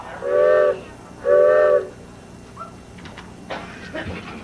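A train whistle sounds as the number 8 train arrives, two long steady blasts about a second apart, loud and clear, followed by a quieter stretch of faint clatter and indistinct sounds.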